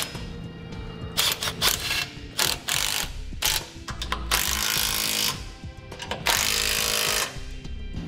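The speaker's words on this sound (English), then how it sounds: "I recommend you use a power tool to tighten it down" Power tool driving TorkLift tie-down hardware on a 2018 Chevrolet Silverado, with repeated short bursts of ratcheting, whirring rotation between pauses, close and fairly loud.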